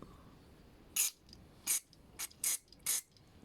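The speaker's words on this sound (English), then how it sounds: "When spraying carb cleaner here" Five short, sharp hissing spray bursts of carburetor cleaner at uneven intervals from an aerosol can into a lawn mower carburetor, close up against a quiet background.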